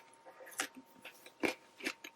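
Someone biting and chewing celery dipped in lemony hummus, close wet crunches and mouth sounds in a few uneven bites, with no talk.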